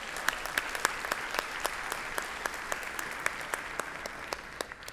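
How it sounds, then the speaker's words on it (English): A conference hall audience applauds with scattered, distinct claps rising over a soft wash of clapping, fairly faint and distant, with no talk over it. "Let's all give them a big round of applause."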